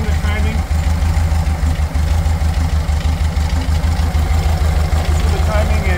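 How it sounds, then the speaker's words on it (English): A 1979 VW Beetle engine idles at about 800 RPM with a loud, steady, close-up low putter and an even pulsing rhythm that holds for the whole stretch. "got the engine running at about almost 800 RPM"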